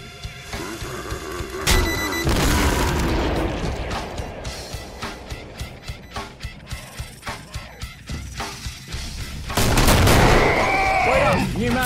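The Boomstick double-barrelled shotgun fires in the Killing Floor video game, with heavy blasts amid a run of rapid repeated gunfire cracks, loud and close, followed by a dense burst of further shooting and chaos.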